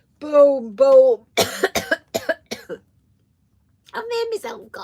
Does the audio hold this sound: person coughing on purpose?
yes